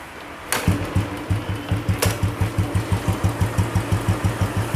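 An old Royal Enfield Bullet motorcycle engine kicks over with a sharp burst, then settles into a steady, loud idle with an even, rapid chugging pulse.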